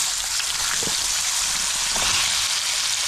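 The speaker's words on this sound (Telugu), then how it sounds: "బంగాళదుంప ముక్కలు వేసుకున్నాం." Potato pieces fry in oil for an aloo fry, a dense, loud, even sizzle like steady rain throughout, with a few faint spatula scrapes.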